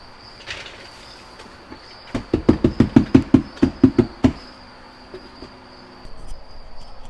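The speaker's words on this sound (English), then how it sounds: "Happy crickets in their new house." Crickets kept in a simple home breeding box chirp in a quick burst of about a dozen sharp pulses, close and fairly loud, followed by softer scattered chirps.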